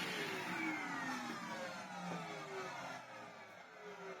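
A vacuum cleaner running on its lowest setting gives a quiet, steady motor whine and airflow hiss, with gliding tones as the pitch shifts slightly, heard alone.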